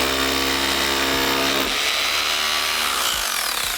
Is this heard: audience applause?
no